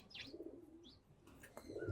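Giribaz racing pigeons in Narsingdi give a few faint, brief chirps and soft coos at a distance, with light background noise between the calls.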